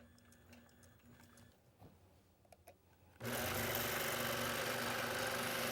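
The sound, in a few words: sewing machine stitching a quilt seam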